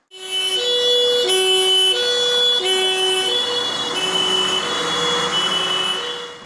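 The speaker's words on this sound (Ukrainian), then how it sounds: "Гасити займання рятувальники виїздять на новому пожежному автомобілі." A loud two-tone siren from a new fire engine in Orzhytsia, Poltava region, Ukraine, wailing back and forth, close by and continuous, alternating high and low pitches.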